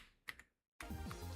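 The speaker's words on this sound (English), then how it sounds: "sounds like a typewriter" Computer keyboard typing with a typewriter-like clack, two quick faint key taps, a brief silence, then a louder run of clicking mixed with background sound.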